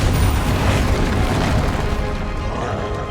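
Repulsor spell cast in the game Hogwarts Legacy, a loud booming magical blast with a deep rumbling burst that rolls and slowly fades over a few seconds.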